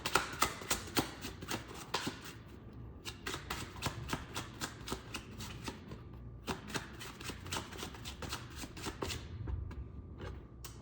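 Tarot cards are shuffled repeatedly in quick riffling bursts, crisp and close, with brief pauses between shuffles.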